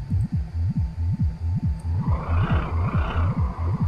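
A tractor in the video game My Summer Car lifts a car, its engine throbbing in a steady rhythmic pulse while a hissing hydraulic strain rises midway through; no one talks.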